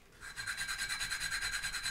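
Steady back-and-forth rasping of 150-grit sandpaper over a surface, about eight quick even strokes per second, close and moderately loud.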